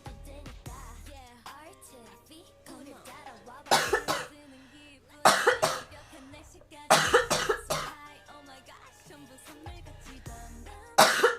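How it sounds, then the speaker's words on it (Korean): Repeated coughing from one person recorded up close, with loud bursts coming in clusters between stretches of quieter background and faint talk. "아 기침이 엄청 많이 나."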